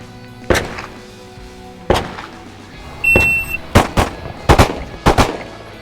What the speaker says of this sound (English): From the ready position, 2 shots, 3 seconds.